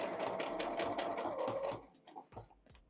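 Une machine à coudre pique du tissu lors d'un projet de carnet porte-aiguilles, a fast even rattle of stitches up close that stops after about two seconds, followed by a few soft clicks and handling sounds.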